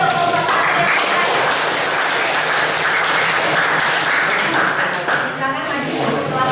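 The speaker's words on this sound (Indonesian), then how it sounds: "Tepuk tangan dulu deh untuk kelompok 1 yang siap." A classroom of students claps for a group getting ready to present, a dense burst of applause that holds steady for several seconds, with voices mixed in.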